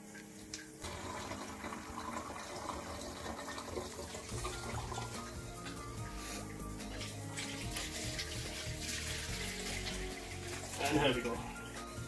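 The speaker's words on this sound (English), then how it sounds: "So I'll pour some of the liquid here." Homemade Coke ginger beer liquid is poured through a funnel into bottles, giving a steady trickling splash that runs throughout while a person talks over it.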